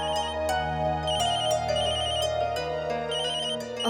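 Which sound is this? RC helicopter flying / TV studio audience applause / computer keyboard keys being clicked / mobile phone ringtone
mobile phone ringtone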